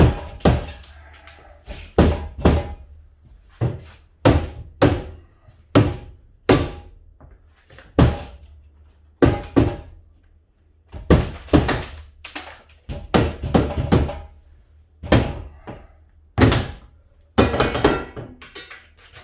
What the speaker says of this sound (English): Rubber hammer, people.